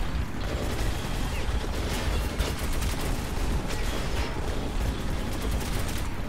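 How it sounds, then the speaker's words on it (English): Enemy gunfire in Metro 2033 Redux, a dense continuous rattle of rapid shots and mechanical clatter, loud and unbroken throughout. "Oh, they're shooting at us."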